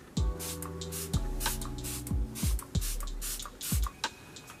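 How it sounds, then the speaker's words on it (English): Several quick hissing sprays of makeup setting spray on a face, close by, coming in a loose rhythm, each preceded by a sharp click of the pump. "let me just spray my face first and spray the crap out of it"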